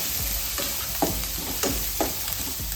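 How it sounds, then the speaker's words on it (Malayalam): A couple of sprigs of curry leaves sizzle in a hot pan while being stirred, with a continuous close frying hiss and about four distinct spatula scrapes at roughly regular intervals. "ഒരു 2 തണ്ട് കറിവേപ്പില അത് ഇട്ട് കൊടുക്കാം. എല്ലാം ഒന്ന് ഇളക്കാം."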